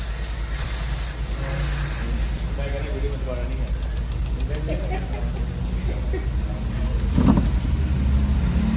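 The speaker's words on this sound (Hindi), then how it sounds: "ये आवाज़ कर रहा है अंदर से, यही छन छन छन की आवाज़ आती थी इसके अंदर।" A Toyota Fortuner engine with a faulty PCV valve idles steadily at close range, a low mechanical hum running throughout with a brief louder knock near the end, while voices talk nearby.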